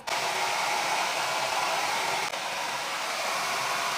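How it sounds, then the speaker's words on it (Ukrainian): A cheap Chinese hair dryer drying hair roars steadily and loudly up close for several seconds, with one brief dip midway and no talking, then cuts off. "Тепер сушу. Звичайнісіньким феном китайським."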